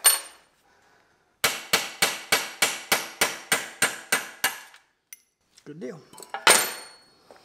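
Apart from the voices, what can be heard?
hammering rivets on a sicklebar mower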